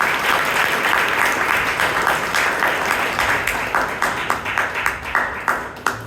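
Sustained audience applause at a Toastmasters club meeting in Bangalore: steady, dense clapping from a room of people that holds for about six seconds, with a slightly stronger burst near the end.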